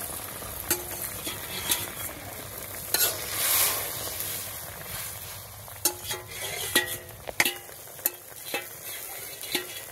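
Fish goes into a simmering curry in a pan, with a soft sizzle under repeated sharp scrapes and taps of a spoon stirring, close by and irregular, and no voices.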